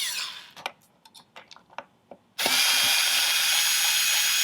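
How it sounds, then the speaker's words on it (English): A power screwdriver backs out the mounting screws of a neck pickup on a PRS S2 McCarty 594 guitar. A few faint clicks and taps come first, then the motor starts abruptly and whirs loud and steady, close up. "We're going to take off the mounting screws,"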